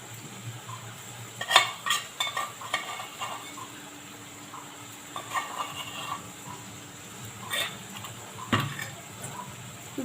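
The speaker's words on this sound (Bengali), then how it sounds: "দিয়ে এবার এই মশলাটাকে কষাবো।" Turmeric and chili powder sauté in a pan while a spoon stirs and scrapes against the metal in irregular clinks and knocks, under a faint steady sizzle.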